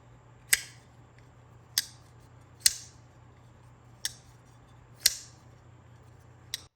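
A Bridgeport 1827 folding knife blade snaps open six times in a row, each a sharp, crisp click standing alone against a quiet background, spaced about a second apart.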